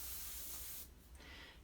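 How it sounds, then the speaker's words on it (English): Brown paint sprayed in a steady, loud hiss that cuts off partway, followed by a quieter second burst of spray. "We're going to spray this color through again."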